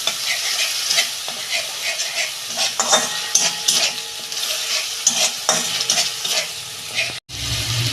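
Ginger paste stir-fried in a pan for chana masala sizzles loudly and steadily, with repeated scraping strokes of a spoon against the pan throughout and a brief break near the end.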